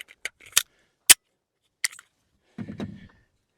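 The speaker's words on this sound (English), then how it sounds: "Let me load these mags back up and we'll be right back." Hollow point cartridges pressed one by one into a S&W Bodyguard 2.0 pistol magazine, giving a few sharp, isolated metallic clicks spaced apart, then a brief scraping rattle, close and alone.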